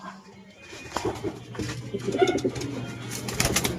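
Pigeons coo softly and repeatedly nearby, with rustling and faint background voices mixed in.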